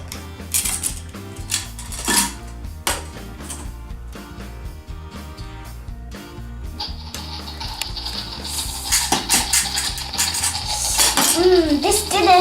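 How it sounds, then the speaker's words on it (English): Plastic toy sausages and bacon being handled on a pink Casdon kids' toy cooker, making a steady stream of close clacks, taps and rattles that get busier and louder toward the end. "So let's cook some sausages and bacon."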